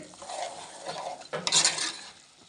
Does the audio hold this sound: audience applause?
no